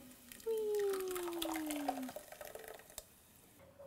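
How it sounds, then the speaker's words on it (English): Blended tomatoes pour into a pan of garlic sizzling in hot olive oil, a sudden wet splash and hiss that settles into softer crackling and bubbling, with a faint tone sweeping down during the pour. "I'm gonna add the blended tomatoes."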